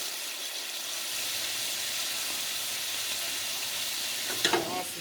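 Vegetables sauteing in a pan give a steady, even sizzle that runs throughout, with a brief clatter near the end.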